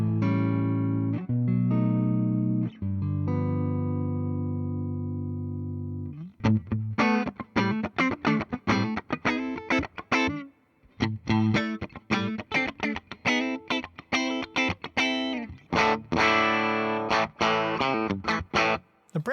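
A 2025 Gibson Les Paul Standard P90 Ebony electric guitar plays through its neck pickup with a clean tone. Sustained chords ring out first, then give way to rhythmic, choppy strummed and picked chords, with no voice.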